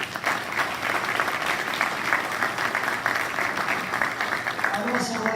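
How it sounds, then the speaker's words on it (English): Audience applause fills a signing ceremony hall, a steady dense wash of clapping from a large crowd that holds evenly throughout, with a few voices audible near the end. "please give yourselves a big round of applause"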